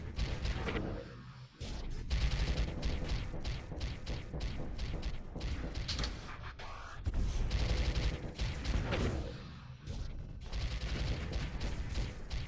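Ship turret weapons firing in the space strategy game Starsector, dense bursts of rapid gunfire and heavy impacts in repeated volleys, loud and chaotic, with a few short lulls.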